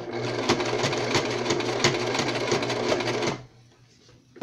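A sewing machine straight-stitches a bracelet, a close steady mechanical whir with regular needle clicks that stops near the end, leaving a quiet room and one final click.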